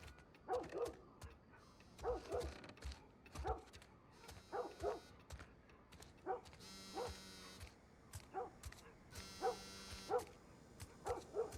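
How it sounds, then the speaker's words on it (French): A dog in The Last of Us Part I video game gives repeated short barks and whimpers in a steady rhythm. The sounds are faint and set against quiet game ambience. "Le chien est pas content."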